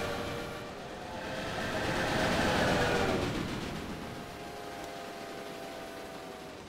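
Trains run in the railway-building strategy game Railway Empire, a continuous rumbling rail roar that swells in the middle and then settles into a steady, even drone, with no voices.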